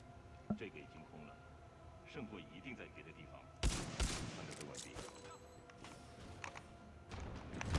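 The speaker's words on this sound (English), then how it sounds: "I'm gonna shoot my shotgun twice at a specific spot on the wall" Two shotgun blasts fired in the shooter game Titanfall 2, aimed at a wall, sharp and loud, followed by a grenade-like burst and busy in-game clatter and effects.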